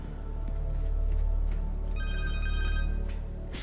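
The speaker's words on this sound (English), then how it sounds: "Phone." A cell phone rings inside the video game Marvel's Spider-Man 2, a short electronic ringtone of repeated tones over a steady game soundscape.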